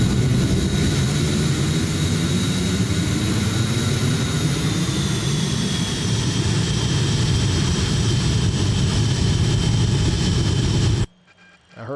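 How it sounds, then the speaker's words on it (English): Steady, loud roar of MD-83 jet engines heard from inside the aircraft in flight simulation, a continuous whine with a slight pitch shift midway as throttle changes, cutting off abruptly near the end. "I heard those throttles change"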